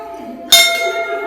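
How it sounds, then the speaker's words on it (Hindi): A single bright metallic temple bell strike rings out close by, its clear tone sustaining and slowly fading over an already humming bell. "घंटी बजाते हैं"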